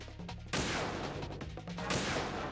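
Gunfire in the stealth action game Metal Gear Solid 2: a dense, loud burst of shots that opens with a sharp blast and runs as continuous rattling fire, with a second heavy surge near the end.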